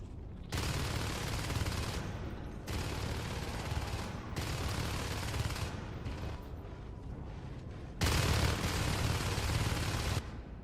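Marines firing on skulks in Natural Selection 2, sustained bursts of loud automatic gunfire broken by short pauses, then a final heavier burst.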